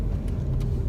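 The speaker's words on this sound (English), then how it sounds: "And I am driving her car right now because I need to get air in her tires." A car drives along a road on a winter day with its tire-pressure warning light on, giving a steady, loud low engine and road rumble from inside the cabin.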